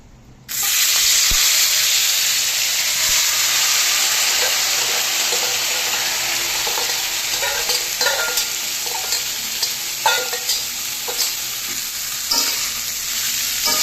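Salted water lily stems dropped into hot oil already used for frying taro, bursting into a loud, steady sizzle that fills the kitchen, with small crackles and pops scattered throughout.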